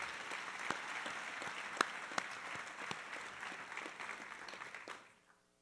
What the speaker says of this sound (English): one more round of applause for all of our AP Scholars